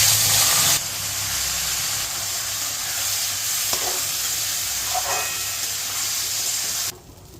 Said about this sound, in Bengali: এবারে তেলের মধ্যে এই ভিজিয়ে রাখা গোবিন্দভোগ চালটা দিয়ে দেবো।